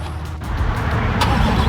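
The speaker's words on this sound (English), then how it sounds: "you can hear the exhaust rumble and the engine being in the back." Chevrolet C8 Corvette with its mid-mounted engine behind the cabin, heard as a steady, close, loud exhaust rumble that holds without pause.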